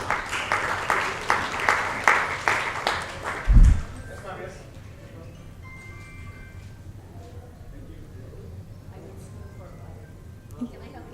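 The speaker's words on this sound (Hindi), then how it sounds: "जोरदार तालियां मैम के लिए." Applause for an international guest of honour at an awards and open-mic poetry event: a loud run of rhythmic claps fades after a few seconds into low room murmur and sparse stray sounds.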